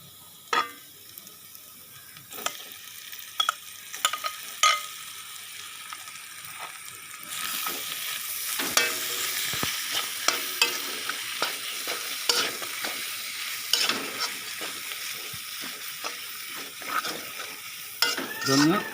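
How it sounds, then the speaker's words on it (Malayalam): Marinated pork stirred and sautéed in a pan, steady close sizzle from about halfway on, with repeated scraping and clinking of a spoon against the pan throughout and no voices. "നമുക്കിത് ഇതിനകത്ത് ഇനി മിക്സ് ചെയ്തിട്ട് വഴറ്റിയെടുക്കാം."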